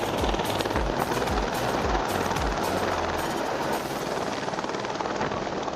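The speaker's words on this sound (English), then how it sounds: "the pilot took the helicopter to a nearby pool and filled their bucket up" A helicopter hovering low over a nearby pool while filling its water bucket, its rotor beating in a loud, rapid thump under a steady roar of engine and rushing downwash, continuous throughout.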